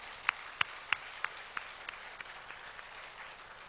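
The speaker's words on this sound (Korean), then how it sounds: "남편들은 가만 계시고 아내들만 큰 박수를 보내겠습니다" Wives in a church congregation applaud their husbands during a Sunday service, a faint, thin round of clapping with a few sharp louder claps near the start that fade steadily away.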